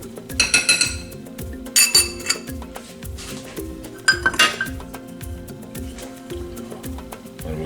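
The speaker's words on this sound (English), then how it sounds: "stir this mixture together to incorporate everything" Dry banana bread ingredients, including baking soda and salt, being stirred in a bowl, giving repeated clinks and scrapes of utensil against the bowl in uneven bursts.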